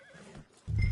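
A horse whinnies in Red Dead Redemption 2, a short loud burst of neighing rising after a quieter stretch of faint background game ambience.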